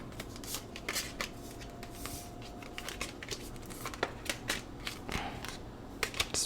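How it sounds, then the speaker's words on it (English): Tarot cards are laid out one after another on a surface, giving a steady run of soft, close slaps and sliding rustles with a quiet background. "Let me just lay all the cards out"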